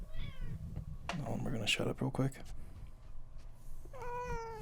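A human voice imitates a cat's meow, a rising tonal mew heard at the start and again at the end, with a person talking in between.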